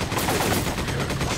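Rapid bursts of gunfire from the video game Resident Evil 5, set in a marshland level, with dense, continuous shots filling the clip at steady loudness and no talk over them.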